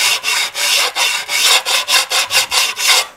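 Fine sanding stone rubbed in rhythmic back-and-forth strokes along the edge of a glass tile, about a dozen steady, close rasping passes with no talk.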